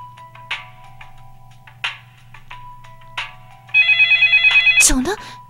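A phone rings in the Yandere mobile game. Soft chiming tones come first, then a loud, rapid electronic telephone ring, followed by a short rising burst of sound.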